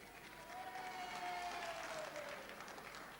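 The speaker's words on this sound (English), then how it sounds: "you can probably tell by the roar that went up from the crowd there" A crowd of supporters at a 1986 TFL William Leitch Medal count roars and applauds in a sustained, distant wash of clapping and cheering, with a whistle rising above the noise.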